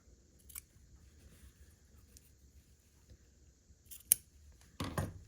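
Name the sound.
trimming fabric overhangs off a quilt block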